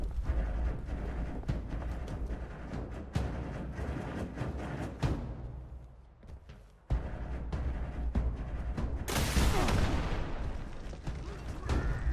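Rocket launcher fire during a video game battle in Appalachia at the Sunnytop Ski Lanes: loud booming blasts and mechanical clatter over a steady rumble, a brief dip near the middle, then a bright explosive burst toward the end.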